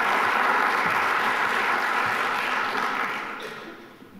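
Audience applause welcoming Sarah Chayes, a steady broadband wash of clapping that holds evenly, then gradually thins and fades toward the end.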